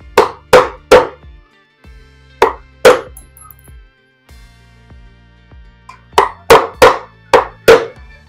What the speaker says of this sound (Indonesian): bagian ini juga kita ketok dengan palu nih, kita pecahin.